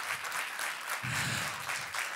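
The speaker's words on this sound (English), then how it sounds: "Everyone clapping." Dense, steady applause from a large audience at a Final Four 2023 awards ceremony, continuous and fairly distant, with a low crowd rumble swelling partway through.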